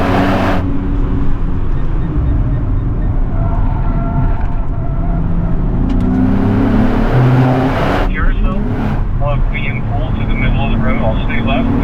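A 2027 Nissan Z NISMO with its twin-turbo V6 and manual gearbox pulls hard on track, the engine drone rising in pitch and dropping at a shift, loud and close, with a driver talking over it throughout.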